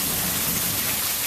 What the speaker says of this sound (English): I got water because it's rained so hard.